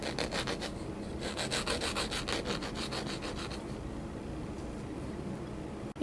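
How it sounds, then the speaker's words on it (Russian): Fingernails filed with the coarse side of a nail file: rapid rhythmic rasping strokes, close and steady for about four seconds, then fading to quiet, no talk. "Я беру более наждачную поверхность и будем пилить ногти."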